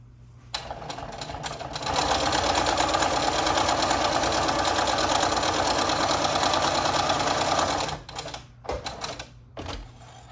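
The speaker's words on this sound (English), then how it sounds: "let's go to the machine and sew all this" A sewing machine runs a quarter-inch seam on quilt fabric for a wall hanging. A steady, fast, loud mechanical whir lasts about six seconds, and a few shorter bursts and clicks follow as it stops.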